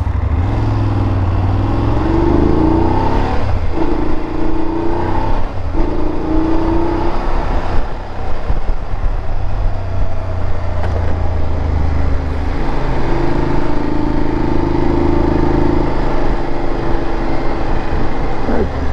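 A BMW F850GS motorcycle pulling away and riding, its engine a steady hum with several rising revs as it moves through the gears, heard continuously close to the microphone.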